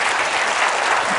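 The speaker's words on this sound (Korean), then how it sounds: "박수는 좀 부담스러운데." Audience applauds at a talk, a dense even wash of clapping that fills the short moment with no voices over it.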